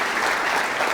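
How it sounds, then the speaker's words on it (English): A crowd claps steadily, a dense wash of applause filling the whole moment without pause. "Please give yourselves a round of applause."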